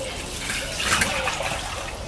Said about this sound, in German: Und jetzt gieße ich das Gurkenwasser ab hier in den Topf